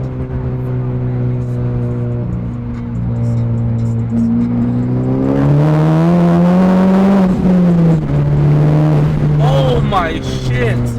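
A tuned Honda Civic Type R FK8 on a Stage 2 E85 tune pulls hard in third gear, its engine note climbing steadily in pitch from inside the cabin, loud and continuous with a brief shift-like dip near the end and talk over it.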